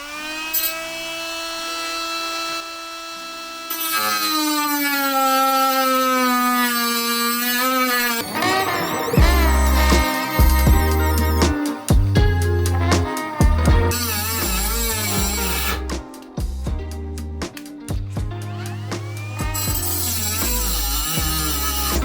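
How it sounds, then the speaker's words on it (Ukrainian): A ProCraft PGA12 mini angle grinder whines up to speed, then bites into rebar with harsh, stuttering grinding bursts that rise and fall in pitch. "ця міні-болгарка ну не призначена для такої арматури"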